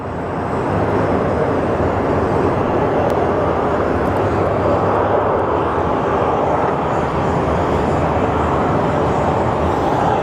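An Airbus A220-100 airliner being pushed back at Phoenix Sky Harbor airport produces a loud, constant jet engine roar that fills the whole stretch with no break, and no voices cut through it.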